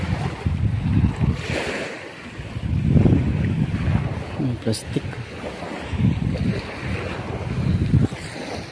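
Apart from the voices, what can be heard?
sea waves on a beach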